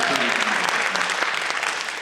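A high school theater audience gives a burst of applause for a performer at a senior showcase: loud, dense, sustained clapping from the whole crowd, easing slightly at the end.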